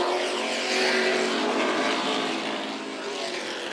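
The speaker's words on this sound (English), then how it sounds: "Super Stocks coming at you. Green flag, here we go." Pack of Super Stock race cars roaring off at the green flag in the Advance Auto Parts Labor Day Classic, a dense broad engine roar that swells and holds, loud and sustained.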